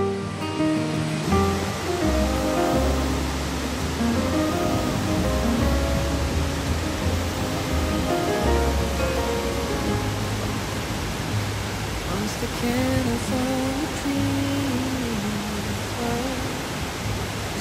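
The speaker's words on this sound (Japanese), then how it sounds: "秋田県最後の秘境三階の滝にやってきました。 すごい迫力です。" Loud, steady roar of Sangai Falls in Komata Gorge, Akita, Japan, a dense wall of rushing water that never lets up, with faint voices and music mixed underneath.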